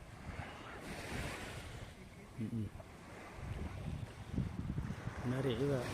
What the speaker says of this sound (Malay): Okey je pantai ni, air pun okey.